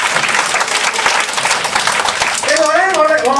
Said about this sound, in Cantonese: 有一次真誠嘅掌聲出現啊